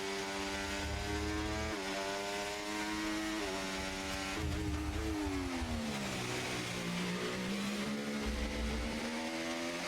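A race car engine roars at full throttle down the Hangar Straight at Silverstone, then drops through the gears with falling pitch, loud and steady throughout.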